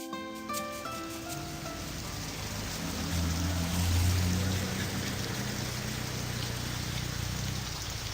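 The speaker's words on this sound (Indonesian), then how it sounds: "Hujan deras mulai turun." Steady heavy rain hisses and patters continuously, swelling slightly in the middle, with a faint tonal sound fading out at the start.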